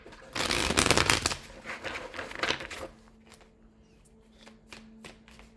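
Tarot cards riffled and shuffled in a loud burst of rapid flapping, then a few softer taps and snaps as the deck settles.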